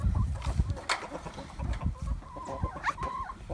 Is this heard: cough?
no